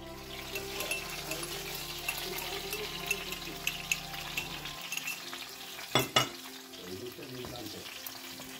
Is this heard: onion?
yes